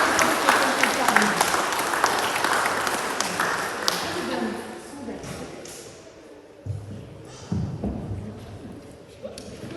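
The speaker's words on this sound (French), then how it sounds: "Et avec toute la main, nous t'applaudissons et nous sommes heureux de t'accompagner." A church congregation at a Protestant Sunday baptism service in Mietesheim applauds loudly for a few seconds before the clapping fades, leaving scattered thumps and a voice speaking.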